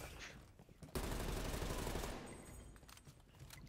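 Gunfire in Call of Duty: Cold War, a loud dense burst of automatic shots lasting about a second, then fading into scattered quieter shots and game noise with a voice faintly underneath.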